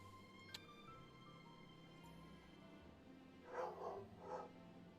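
A dog named Jaeger gives two muffled barks in the background, faint and distant against a low room hum.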